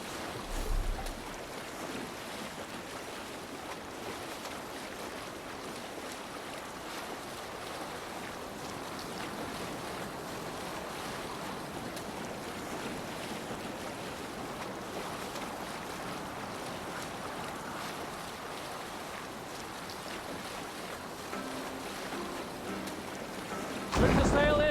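Sailing ship crossing the open sea in Assassin's Creed Valhalla, a steady wash of waves and wind rushing continuously around the hull, with a brief burst of talk right at the end.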